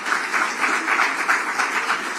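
Audience applause for a 25th Legacy Run launch event, a steady wash of many hands clapping at moderate loudness, continuous throughout with no talk over it.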